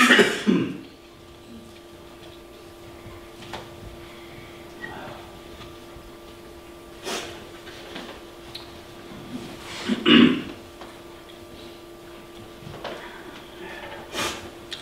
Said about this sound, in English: The only time I cough like this is here at church.